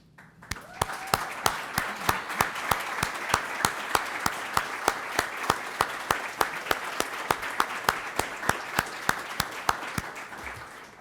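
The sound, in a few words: audience applause at a hall of fame ceremony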